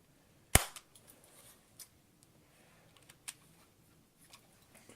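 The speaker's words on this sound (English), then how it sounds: "It's a spring powered pistol, so you have to pull the slide each time in order to shoot." A spring-powered airsoft Sig P226 pistol by KWC/Cybergun fires with one sharp, loud crack, followed by faint clicks and rattles as the slide and parts are handled.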